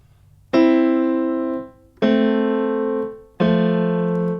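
Two pitches sound together as a harmonic interval, struck three times in succession with bright, sustained tones that fade between each attack, clean and close.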